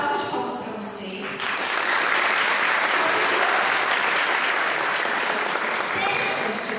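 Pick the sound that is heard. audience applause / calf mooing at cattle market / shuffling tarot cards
audience applause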